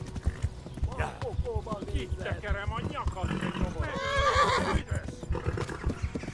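A horse whinnies loudly amid hoofbeats and sounds from the video game Kingdom Come: Deliverance, with someone talking over it throughout.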